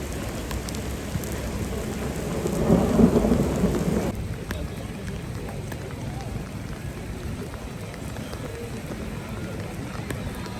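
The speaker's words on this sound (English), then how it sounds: "we've got a nice torrential downpour with hail and thunder and lightning" Heavy rain and hail pour steadily while a deep rumble of thunder swells and fades in the first few seconds, then the downpour continues alone.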